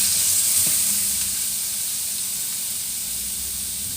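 Sweet and sour pork stir-frying in a hot pan, a steady loud sizzle and hiss of oil and steam throughout, gradually easing slightly, with no talking.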